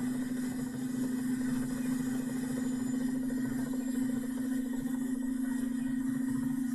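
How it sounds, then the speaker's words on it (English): Engines of an AH-64D Apache helicopter spooling up during start-up in the DCS flight simulator, a steady mechanical drone with a strong constant hum and even vibration throughout, no voices. "I'm going to start my engines up now."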